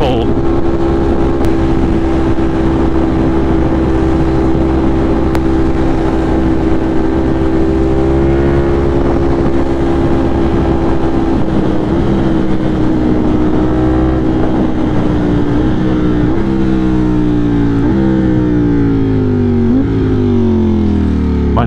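A 208 HP motorcycle is ridden on a cold commute, its engine droning steadily up close under heavy wind rush and shifting in pitch through gear changes and speed changes toward the end.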